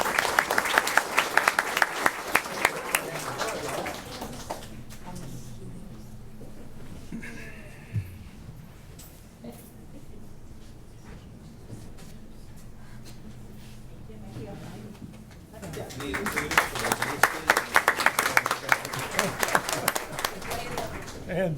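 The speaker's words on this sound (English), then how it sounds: "Let's give them another round of applause." An audience at a school board meeting bursts into loud sustained clapping, which fades into a stretch of murmuring and speech and then swells into a second round of applause.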